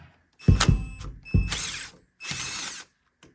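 A screwdriver wedged into a gap and levered to pry apart a divider wall in an abandoned school: three separate bursts of creaking, grinding strain with sharp cracks, separated by short silences, close and loud.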